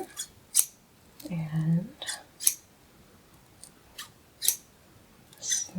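Scissors snip crisply and close several times in an irregular rhythm, with a brief soft voice murmuring between the cuts.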